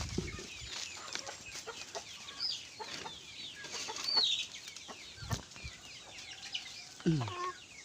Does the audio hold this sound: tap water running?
no